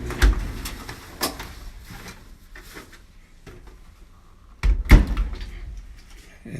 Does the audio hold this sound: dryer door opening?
yes